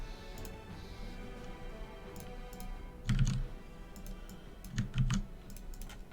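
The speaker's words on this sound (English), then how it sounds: "I like a mechanical keyboard because it just feels quite comforting to me, but you are right, it's quite loud." Clicky keystrokes on a mechanical keyboard, scattered taps and short clusters of quick presses over a low background hum, fairly close and moderately loud with no talking.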